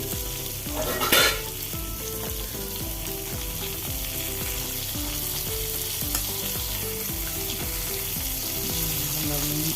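Mackerel frying in hot oil in a pan gives a steady, close, crackling sizzle that runs without a break, with a brief louder spatter near the start and occasional soft clinks of the pan.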